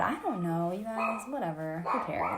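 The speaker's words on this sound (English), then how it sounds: "sorry about my dogs in the background" Dogs bark in the background of a home, their sounds mixed under a close voice talking throughout.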